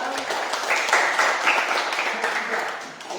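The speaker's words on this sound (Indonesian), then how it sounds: "Kita tepuk tangan." A classroom gives applause for the presenting groups, a continuous patter of many hands clapping nearby, with voices mixing into it.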